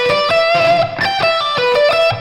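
Electric guitar plays a quick descending pentatonic lick, clean bright picked and hammered notes in a steady rapid rhythm, close and alone.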